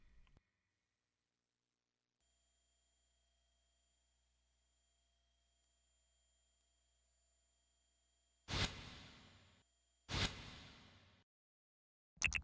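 A steady, thin high-frequency hearing test tone hums alone for several seconds, then two loud bursts of noise cut in near the end.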